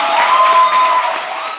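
A Korean studio audience breaks into applause, a dense, loud, close burst of clapping that holds steady and then eases off slightly toward the end.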